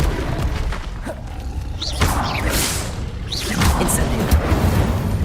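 A Levioso spell is cast in the video game Hogwarts Legacy: booming magical bursts and whooshing swells over a dense rumbling game backdrop, with several distinct impacts across the span.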